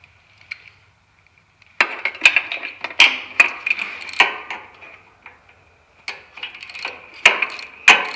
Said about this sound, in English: Get my wrench.